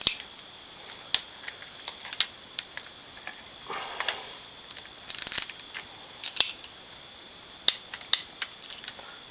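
Bolts on a Can-Am Renegade 1000 ATV being tightened with a ratchet, sharp clicking bursts and metallic ticks scattered irregularly over a faint steady whine, close and fairly quiet.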